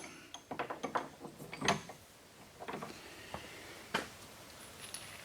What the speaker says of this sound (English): put this in the vise.